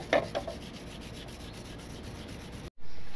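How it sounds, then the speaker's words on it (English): Rhythmic rubbing of 500 grit sandpaper wet sanding a car headlight lens, close and steady, stopping abruptly before a louder burst of noise at the end. "we're using 500 grit sandpaper right now, so we're just gonna go ahead and wet sand this whole headlight."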